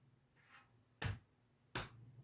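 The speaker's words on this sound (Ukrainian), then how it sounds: "Плескаємо долоні" Two sharp, separate hand claps ring out alone in a quiet room, spaced well apart, with a faint softer sound before them, as children in a kindergarten nature lesson answer a winter game.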